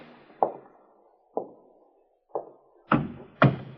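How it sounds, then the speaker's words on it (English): In a radio drama, a door is tried with five hollow wooden knocks or rattles at uneven intervals, the last two louder and closer together, with no talk over them. "Try the door, Muggan."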